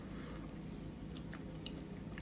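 Crunchy chewing of croissant French toast topped with peaches and peach syrup, a steady close-up munch with soft squishy bites running throughout.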